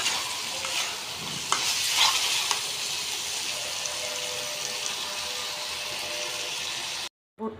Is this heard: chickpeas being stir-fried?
yes